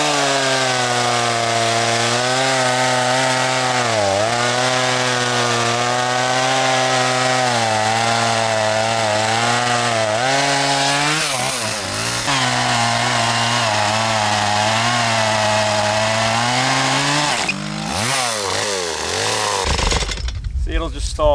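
A chainsaw runs loud and steady at high throttle, cutting into black walnut during milling, its pitch sagging briefly under load before picking back up, with a short dip near the end.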